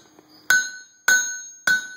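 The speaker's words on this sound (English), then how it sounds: "He is going to pound it with his hammer." A hammer strikes a small survival knife blank on the hardy of an anvil three times, about half a second apart, each blow loud, close and ringing out with a bright metallic tone.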